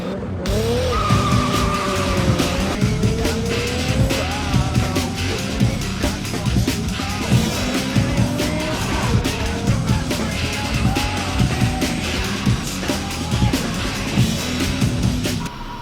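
Cars race and skid in a scene from The Fast and the Furious, with repeated tire squeals over loud, continuous engine roar that surges throughout.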